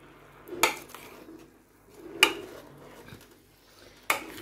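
A utensil stirring bihon guisado (rice noodles with pork and red bell pepper) in a pan knocks against the metal three times, spaced well apart, with quiet scraping between and no talk.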